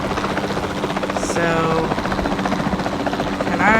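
Helicopter rotor and engine drone from the video game Jurassic World Evolution 2, a steady buzzing whir held throughout with a voice speaking briefly over it.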